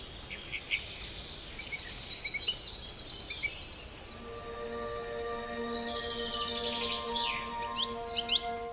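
Several songbirds sing in spring, bright rapid trills and chirps overlapping one another, with steadier whistled notes joining in the second half, close and clear with no talking.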